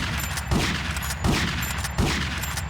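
Shotgun blasts in GTA Vice City, three heavy booming shots spaced evenly about three quarters of a second apart, each with a sharp attack and short decaying tail, loud and close with no talking.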